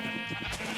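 A Minecraft sheep bleats in a game world, a single wavering nasal bleat heard up close and clear, with no talking.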